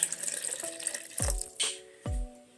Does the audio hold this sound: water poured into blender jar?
yes